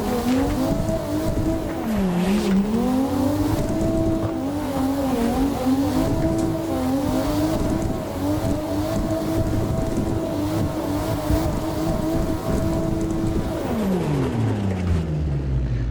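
Car drifting in the Assetto Corsa racing game: a steady, loud engine drone rising and dipping with throttle modulation, blended with continuous tire squeal throughout, then the revs fall away near the end; no voices.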